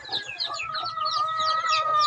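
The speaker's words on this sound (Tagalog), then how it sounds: "Natay mga buhing manok diri sa atong likod sa tumbalay." Several live chickens and chicks cluck and chatter close by in a continuous busy stream, with faint low rustling underneath.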